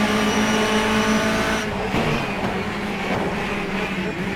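Racing car from a racing video game roars at high revs, then the tone shifts as the tires squeal through a drift, loud and continuous with no talk.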